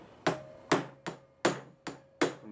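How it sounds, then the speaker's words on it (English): Hammer tapping on a plastic part of a Bissell ProHeat 2x 9400 carpet cleaner being repaired because it will not spray water: six sharp, close knocks at uneven intervals, each with a short ringing tail, no talk. "What you do with this is that you just use your hammer."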